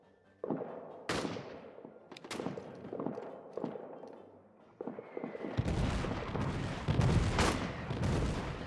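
Rifle shots from soldiers in a WWI trench video game crack out in scattered single reports, then build into denser overlapping gunfire and booming near the end.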